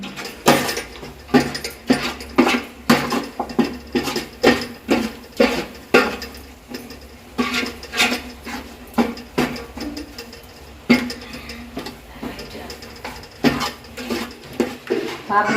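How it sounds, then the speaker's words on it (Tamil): Chicken and bread masala mixed in a metal pot, making a steady run of rhythmic clanks and scrapes from a utensil, close and prominent, with faint voices in the background. "எல்லாத்தையும் போட்டு இப்போ கலக்கிறத பார்ப்போம்"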